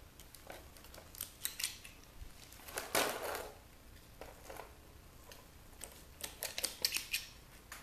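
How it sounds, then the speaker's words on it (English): Wires on a LeapPad learning tablet are snipped during e-waste scrapping, giving a series of close, crisp cutter snips and small clicks, with one louder crunching cut among quieter handling noises. "now it looks like we got some wires to undo here cut these off"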